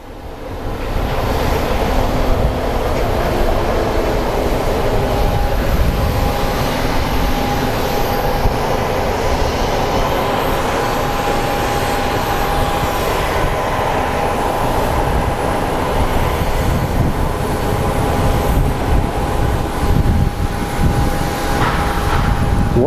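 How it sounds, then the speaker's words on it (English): A Swearingen propeller plane at Phoenix Sky Harbor airport, a steady, loud, continuous engine drone with a sustained tone. It holds evenly throughout with no talk. "What is that? Is that some propeller driven thing? Oh, it's a Swearinger."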